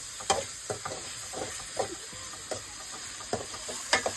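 Tomatoes with turmeric sauté in a hot pan, a steady soft sizzle with periodic scraping stirs every half second or so, close and moderately loud, no talking.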